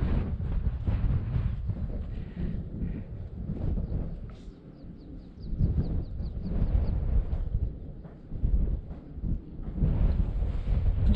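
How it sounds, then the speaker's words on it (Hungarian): Strong wind on a cloudy day in the Transylvanian hills buffets the microphone in heavy, uneven gusts, rumbling loudly and rising and falling throughout. "Látszik, hogy mennek a felhők itt, hogy fújja a szél, nagyon erős szél van."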